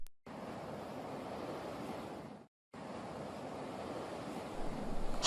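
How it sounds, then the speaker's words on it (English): Ocean surf at a beach washes in as a steady broadband rush, faint and even, cut by a short silent gap midway and swelling slightly louder toward the end, with no voices. "Hey Greg, do you want to go swimming in the ocean?"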